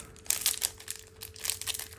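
Crisp crinkling of a plastic wrapper close by while unpacking collectible cards, in uneven bursts of rustling, fairly quiet with a faint steady hum underneath.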